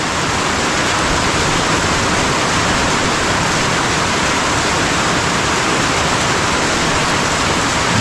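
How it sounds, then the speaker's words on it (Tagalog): Heavy rain pours down steadily on a farm, a dense, loud, continuous hiss of water on surfaces with no pauses throughout. "Ang lakas ng ulan!"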